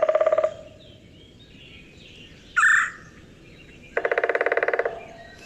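A woodpecker drums in two quick rolling bursts of rapid pulses, with a short shrill call in between, heard fairly close against a quiet outdoor background.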